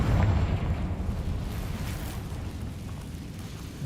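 A Confringo fire spell exploding in the video game Hogwarts Legacy, a dense rumbling burst that starts loud and then decays into a long crackling roar over a few seconds, with no talking.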